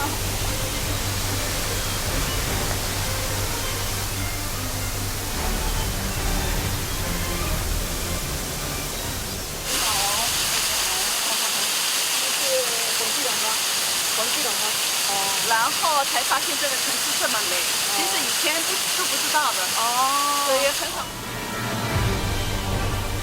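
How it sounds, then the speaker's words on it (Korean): A waterfall pours down directly nearby at a scenic gorge in Chishui, China, a loud, steady broadband rush of falling water that runs throughout, with some voices heard beneath it in the middle section. "이렇게 직접 떨어지는 폭포수도 받아보고요"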